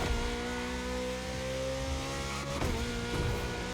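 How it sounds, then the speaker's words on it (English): Ferrari SF90 engine in a racing video game, a steady high-pitched hum with strong harmonics that holds loud and close throughout, briefly dipping and rising again near the end. "the engine does sound nice if you listen to it"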